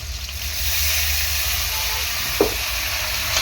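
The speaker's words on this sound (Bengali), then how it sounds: "ভালো করে মশলাটাকে কষিয়ে নিই।" Turmeric and chili powder sauté in a pan with a splash of water, giving a steady close sizzling hiss with one brief stir-like scrape partway through.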